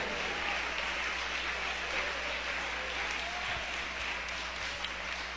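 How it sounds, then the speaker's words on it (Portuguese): A church congregation claps together during a worship service, producing a steady, dense wash of applause that fills the space evenly for several seconds. "desocupem as mãos, batam palmas e glorifiquem ao Senhor"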